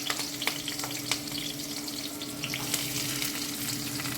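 Semiya upma with cashews fries in a pan, a continuous soft sizzle with scattered crackles and pops at close range, steady in loudness and free of speech.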